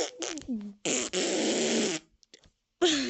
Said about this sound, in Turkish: birazcık osurmuş